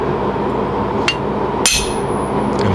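A hammer strikes a blunt chisel set on the edge of thin metal, giving two sharp, loud metallic hits about half a second apart over a steady background hiss.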